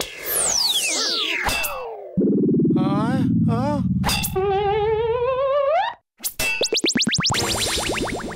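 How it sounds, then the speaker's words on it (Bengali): A cartoon gunshot from the animated Motu Patlu show, set among zany effects: sweeping whistles, boings and warbling tones, with sharp bursts that are loud, close and exaggerated. "মোটো চিংগাম স্যার ফায়ার করলো আর নারকেল পড়লো না।"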